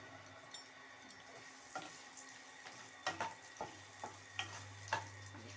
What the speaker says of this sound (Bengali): দিয়ে এবার এটা একটু লাল করে ভাজতে হবে।